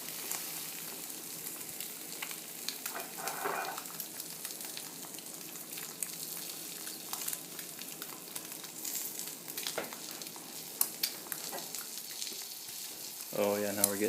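Eggs frying on a Lodge cast iron griddle, a steady close sizzle and crackle running throughout, with faint scraping of a utensil near the end.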